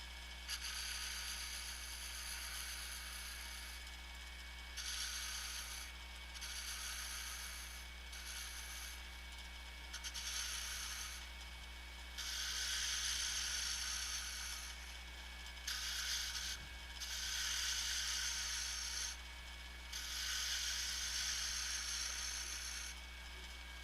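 A wood spindle turns on a lathe while a tool scrapes it in repeated bursts of several seconds each, harsh and steady over a constant low motor hum, with brief pauses between passes and no voices.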